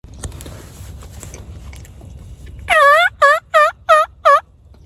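After a stretch of low outdoor rumble, a wild turkey lets out five sharp, loud calls in a quick row, each one a short, bright burst, during a turkey hunt in central Minnesota.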